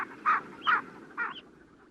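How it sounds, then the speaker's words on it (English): Three short nasal scaup duck calls, evenly spaced and fairly loud, followed by a fainter fourth, over a low background hum. "Someone has proffered that call can be rendered as the word scaup"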